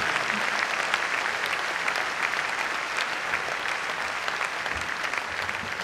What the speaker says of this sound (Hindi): जोरदार तालियां बजा करके बुलाई